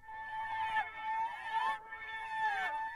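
A spider melodic accent sample in FL Studio pitched up two octaves, giving bright, wavering squeal-like tones in three swelling phrases, loud and without talk.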